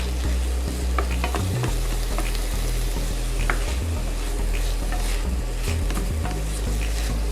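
Chopped thawed ingredients sizzle steadily in a hot pan, a continuous loud frying hiss with occasional stirring scrapes and clinks throughout.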